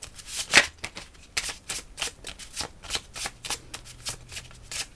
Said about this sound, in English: We're going to take the other card and shuffle it back into the deck.